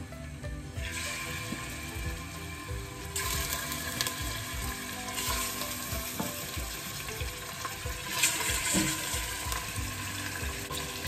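Meat sizzles and fries steadily in hot oil in a pan for a traditional Moroccan couscous, a continuous close crackle with louder bursts and a little clatter, with no talk.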